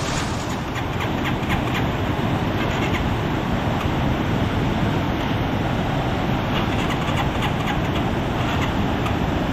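High floodwater after Typhoon Uwan rushes in a steady, loud, broadband roar, a continuous churning wash with no breaks and no voices.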